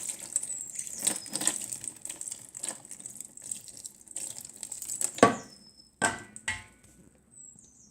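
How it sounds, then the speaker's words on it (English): Water poured over an orchid mounted on a plaque, a close trickling splash with drips and a few sharp taps and knocks near the end, in a quiet indoor setting. "swish the water and just pour it over"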